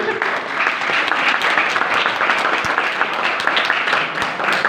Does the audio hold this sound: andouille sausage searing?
no